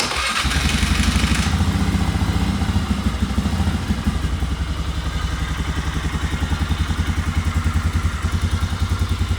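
A cold motorcycle engine, choke pulled out and a new battery fitted, cranks and catches, then settles into a steady, loud, rapidly pulsing idle up close, running continuously with no speech.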